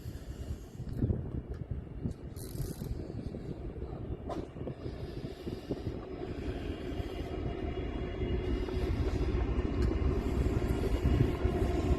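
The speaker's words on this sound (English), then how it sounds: "noisy train in the background." A low, steady rumble of a train passing at a distance, slowly growing louder over about twelve seconds, with faint outdoor noise and no talking.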